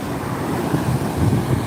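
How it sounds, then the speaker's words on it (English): Ocean waves wash onto a sunny beach in a broad, steady low rumble with gentle swells, mixed with some wind noise on the microphone; nobody speaks. "the sound of the waves"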